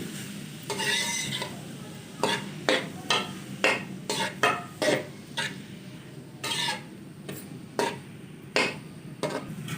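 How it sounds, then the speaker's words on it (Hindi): Grated bottle gourd (lauki) stir-fried in hot ghee in a pan, a soft continuous sizzle broken by repeated scraping and tapping strokes of a spoon against the metal, close and moderately loud with no talking. "लौकी को अच्छी तरह भून लेंगे 2 से 3 मिनट के लिए।"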